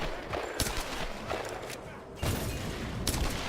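Gunfire in the Tomb Raider video game: a rapid scatter of sharp shots and bursts, irregularly spaced, with one heavier blast partway through, loud and close over a steady background rumble.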